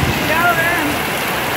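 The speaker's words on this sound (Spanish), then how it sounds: "El granizo que cae se deshace encima de la lámina." Heavy rain mixed with hail pounds a metal sheet roof in steady, dense broadband noise, with faint whistling tones and indistinct voices in the background.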